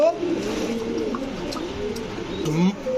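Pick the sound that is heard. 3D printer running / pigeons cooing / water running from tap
pigeons cooing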